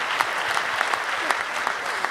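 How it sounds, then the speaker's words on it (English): A conference audience claps steadily for a speaker called up on stage, a short burst of even, continuous applause without talk over it. "Let's give her a round of applause."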